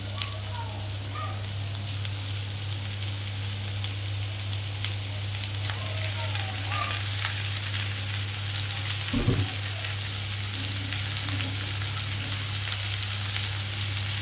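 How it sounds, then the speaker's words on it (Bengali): A steady, low sizzle of snails and onion frying in a pan continues throughout, with a brief clunk of a utensil partway through and faint scraping. "গুগলি আর পেঁয়াজটাকে এবারে বাড়িয়ে বাড়িয়ে আমি সুন্দর করে ভাজা ভাজা করব"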